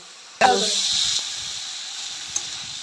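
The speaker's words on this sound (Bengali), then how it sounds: "আর মাছের ঝোলের আলু বেগুন ভাজা হয়ে গেল" Potatoes and eggplant for a fish curry drop into hot oil with a sudden sharp sizzle, then settle into a steady close frying hiss that slowly fades.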